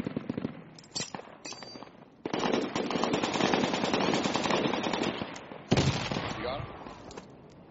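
In a military video game, rapid bursts of automatic gunfire and sharp blasts, including a grenade, crack out loud and close, with pauses between volleys and voices talking over the fighting.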